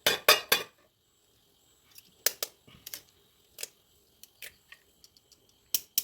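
Eggs being cracked for Malayalam-style egg rice in a home kitchen: crisp, sharp taps and cracks in short bursts with pauses between, close and fairly loud, no talking.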